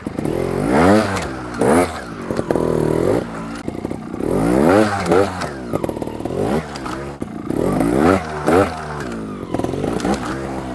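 A trials motorcycle climbs a rock double step, its engine repeatedly revving and dropping in short bursts with clattering and scraping as the tyres grip the rock, close by and without talk.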